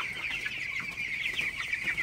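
Twenty-day-old broiler chickens in a chicken house at night cluck and murmur in a steady, dense chorus, close and fairly loud, with no talking.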